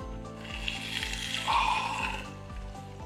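Belly pork sizzles in a pan cooked outdoors. A steady, moderately loud frying hiss runs throughout, with a repeating low rhythmic pattern beneath it.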